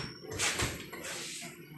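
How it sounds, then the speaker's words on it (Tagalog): A push-pull swing door with a freshly adjusted closer swings shut, making a soft scraping swish and a muffled close, moderately near and fairly quiet. "So subukan natin isara yung pintuan natin."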